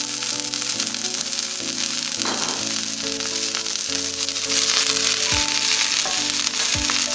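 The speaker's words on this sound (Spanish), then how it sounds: "se va a agregar lo que es nuestros pimientos. Como lo estamos haciendo a temperatura muy alta, se cocina prácticamente rápido." Colored bell peppers frying over very high heat with pork strips in a pan, a steady loud sizzle with occasional stirring clatters and thumps throughout.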